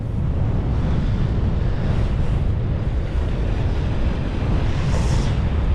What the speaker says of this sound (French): Il y a du vent, j'ai mis une protection sur la caméra pour camoufler le vent.